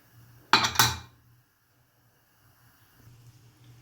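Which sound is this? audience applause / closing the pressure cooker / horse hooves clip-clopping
closing the pressure cooker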